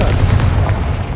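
A Confringo fire spell explodes in Hogwarts Legacy, a loud, close, booming burst that rolls on as one continuous blast without any voices.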